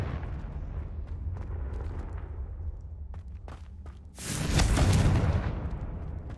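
A fiery Confringo spell explosion in Hogwarts Legacy, a loud rumbling blast that swells suddenly after quieter combat thuds and then slowly fades.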